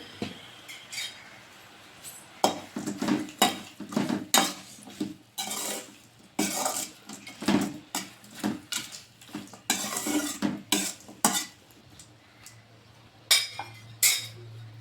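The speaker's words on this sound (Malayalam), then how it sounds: "ശകലം മഞ്ഞപ്പൊടിയും കൂടി ഇട്ട് നമുക്ക് ഇളക്കി വെക്കാം." Taro stem thoran with turmeric is stirred in a metal pan, giving repeated clattering scrapes and clinks of a spoon against the pan in uneven bursts, with little sizzle underneath.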